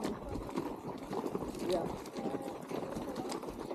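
An Icelandic horse's hooves clop along at a steady walking rhythm, faint and somewhat distant, under people talking nearby.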